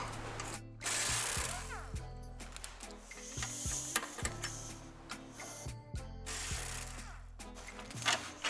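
A ratchet wrench loosens 18 mm bolts on the crossbar of a 2008 Chevy Tahoe, clicking in quick repeated runs of pawl ticks broken by short pauses, close and clear with a few metallic clanks.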